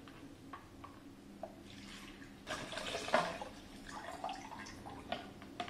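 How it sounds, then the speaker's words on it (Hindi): Water pours and splashes into a hydration bag being filled for a Ladakh trip, with a louder gush midway and a few drips around it, fairly close and with no talking. "तो अभी इसमें थोड़ा सा पानी भर के भी देखते हैं"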